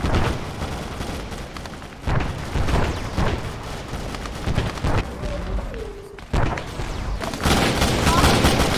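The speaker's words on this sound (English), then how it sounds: "Did someone just shoot that man with a railgun?" Heavy gunfire and booming impacts, including a railgun shot, crack through an Arma 3 battle in loud bursts, while excited voices shout over the shooting.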